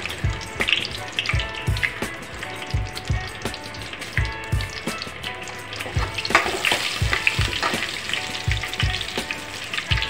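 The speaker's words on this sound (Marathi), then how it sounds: "आपलं तेल चांगल्या प्रकारे तापलेलं आहे व इथे मी 3 ते 4 तेजपत्ते टाकून घेणार आहे आणि 1 चम्मच जिरं सुद्धा टाकून घेणार आहे" Bay leaves and a spoonful of cumin seeds frying in well-heated oil for a spicy brinjal masala, a loud, busy sizzle dense with rapid crackling pops close by, continuous for the whole stretch.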